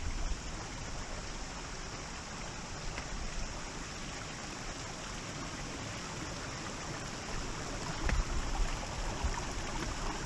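A woodland creek runs steadily over rocks, a constant broadband rush of flowing water near the microphone, with a waterfall close by and one brief louder splash toward the end.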